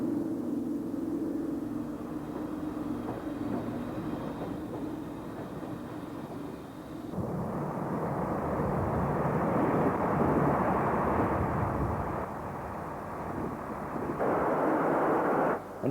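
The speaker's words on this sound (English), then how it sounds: "The Hall was about to take the train of London Transport Underground stock back to the capital." A Hall class steam locomotive hauling a train of London Transport Underground stock, a heavy rumbling roar with a steady hum that builds and swells louder partway through, holding strong to the end.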